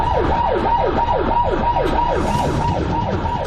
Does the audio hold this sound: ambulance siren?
yes